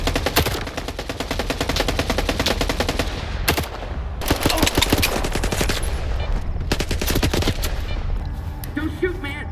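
Sustained gunfire in the video game S.T.A.L.K.E.R. 2: Heart of Chornobyl, dense and loud automatic bursts running almost continuously with brief lulls and overlapping shots.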